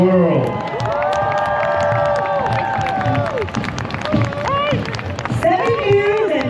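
A crowd at the National Cherry Blossom Festival parade in Washington DC cheers and applauds loudly and continuously, with shouts and whistles near and far, and a voice rises over the din.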